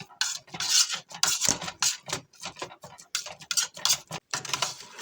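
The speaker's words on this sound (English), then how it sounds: "Oh yeah, they're smashing really well because I think I overboiled the potatoes a little bit" A masher works through overboiled potatoes in a metal pot, close rhythmic squishing strokes with clinks and scrapes against the pot, repeated steadily several times a second.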